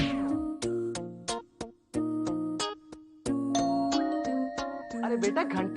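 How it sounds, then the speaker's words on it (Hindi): A doorbell in a home rings repeatedly, playing a loud, bright electronic melody in several bursts separated by short pauses. "अरे बेटा, घंटी बज रही है"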